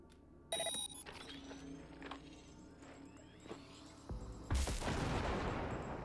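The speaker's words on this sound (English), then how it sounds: "Now, detonate the grenade." Scattered gunshots crack through a quiet shooter scene, then a grenade goes off with a loud, broad roaring blast that sustains and rumbles through the final seconds.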